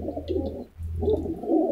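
Breeder pigeon pairs coo in a rooftop loft, two sustained low rolling bursts separated by a brief pause, close and steady with faint chirps above.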